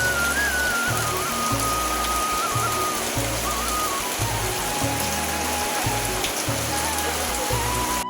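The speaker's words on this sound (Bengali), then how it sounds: "এখানে প্রচুর বৃষ্টি হচ্ছে।" Heavy rain pours down in a dense, continuous hiss, with a regular low mechanical thumping running beneath it throughout.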